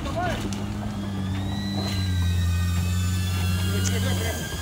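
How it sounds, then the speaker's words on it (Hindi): An off-road vehicle's engine drones steadily with a low, even hum while it crawls over rocks, with voices and sporadic background noise around it throughout. "जो रास्ते बने हुए ना उमर उसी में रखो टायर"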